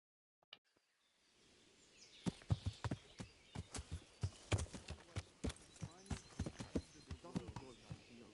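Horse hooves clip-clop steadily in the video game Kingdom Come: Deliverance, a clear rhythmic trot of sharp close knocks on hard ground that lasts several seconds after a faint opening click.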